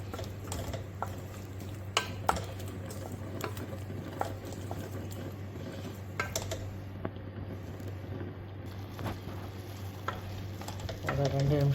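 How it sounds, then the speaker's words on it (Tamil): Karamani kuzhambu masala boiling in a pan, a steady low simmering hiss and bubbling with scattered soft clicks and stirring touches, close and continuous without talk. "ஒரு 2 நிமிஷம் கொதிக்க விடலாம்."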